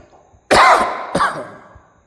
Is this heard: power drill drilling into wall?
no